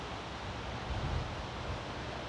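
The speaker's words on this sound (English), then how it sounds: "it's still windy now" Wind buffets the microphone in a low, steady roar beside a carp fishing lake, with a few stronger gusts swelling briefly before settling back. No one speaks.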